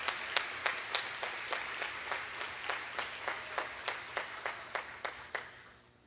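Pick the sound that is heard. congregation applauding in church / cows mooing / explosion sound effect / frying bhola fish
congregation applauding in church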